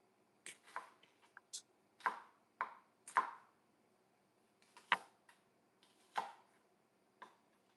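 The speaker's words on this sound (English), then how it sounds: "A little too big, so I'm just chopping them up a little bit more." Food is chopped with a knife on a cutting board while preparing a protein pasta salad. About a dozen sharp, irregular taps sound close and fairly quiet, with short pauses between them.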